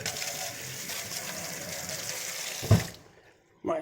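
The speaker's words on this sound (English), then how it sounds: "now I'll just wash my spoon." Tap water runs steadily while a tasting spoon is rinsed at a kitchen sink during butter chicken cooking, a brief clatter near the end before the flow cuts off.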